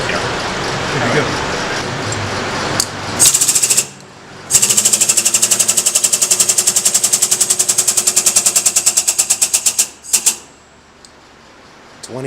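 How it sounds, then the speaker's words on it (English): A pneumatic 20-ton hydraulic bender in a motorcycle workshop chatters in rapid mechanical bursts, loud and close, with a long pulsing run, brief pauses between, and voices over the start. "20-ton hydraulic bender. Pneumatic hydraulic."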